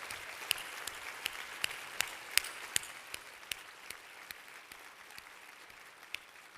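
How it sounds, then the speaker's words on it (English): Audience applause at a breakfast event, a steady wash of clapping with sharp individual claps standing out, continuing at moderate loudness alone without talk. "I would like to have them have a round of applause."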